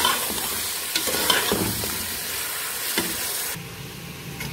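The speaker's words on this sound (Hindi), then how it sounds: "नमक मिर्च हल्दी और गरम मसाला डाल के इसको भून रही हूँ" Onion, tomato, garlic, chili and masala fry and get stirred with dove meat in a home kitchen pan, giving a steady loud sizzle broken by scraping stir strokes and then easing slightly toward the end.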